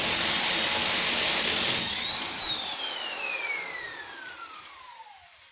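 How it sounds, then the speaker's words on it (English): A pneumatic impact gun loosens an overly long bolt during Skoda Superb 2 flywheel, clutch and wheel bearing work. One loud sustained burst of whirring and rattling cuts off, and the motor then winds down with a long falling whine. "use the help of a gun to release the bolt, because the bolt once again is too long"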